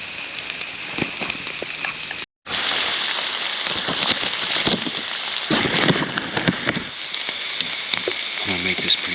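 Heavy rain falling outdoors in Ohio hill country, a dense steady hiss of drops with pattering hits close by and one brief dropout.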